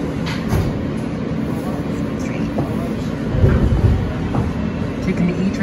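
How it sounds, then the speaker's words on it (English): Rumbling ride aboard an R160 car on the New York subway E train, with steady low track roar, rattles and a louder surge midway, continuous and close. "Taking the E train to Lexington Avenue to 3rd Street."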